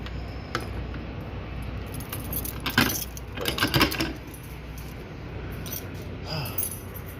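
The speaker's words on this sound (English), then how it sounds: "Put the lock on. One-handed." Keys jangle as a lock is put on a truck trailer door one-handed, with metallic clinking bursts in the middle and near the end over a steady idling engine rumble.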